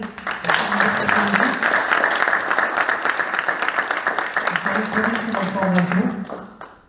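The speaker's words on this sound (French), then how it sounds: "on peut les applaudir." A crowd applauds four speakers at a conference, sustained clapping building and holding for several seconds, with a voice talking over it before it fades out at the end.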